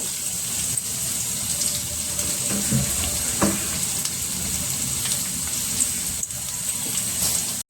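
Pumpkin pieces and curry leaves frying in hot oil in a pan, a steady close crackling sizzle with occasional stirring knocks, continuous at even loudness throughout.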